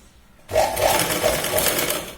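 A sewing machine runs a straight seam on a Punjabi dress, starting abruptly after a short quiet moment and then whirring steadily and fairly loud with a quick, even stitching rhythm.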